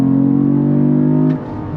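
Cadillac CT4-V Blackwing sedan engine pulling hard under throttle in second gear, a loud close harmonic roar held steady for over a second before abruptly dropping off to a lower rumble as the revs fall.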